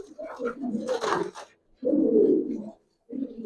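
Pigeons cooing close by, tied to a pair of light-coloured pigeon chicks and hens kept for flying: low throaty bursts in three separate phrases with short pauses between, fairly quiet.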